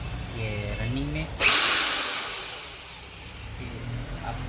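A Powerbilt 4-26 rotary hammer drill bursts into a loud, harsh whir that then winds down in a falling whine. Someone talks briefly before and after it.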